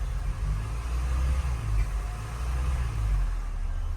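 An Opel Vectra C engine, started after a high-pressure fuel pump replacement, runs with a steady low rumble that swells slightly as it is revved, close and continuous with no talk.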